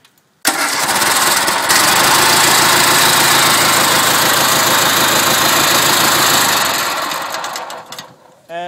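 A tractor engine cold-starts with the choke on, catching abruptly and settling into a loud, steady, chugging idle that runs close by for several seconds before tapering off, with a voice briefly audible near the end.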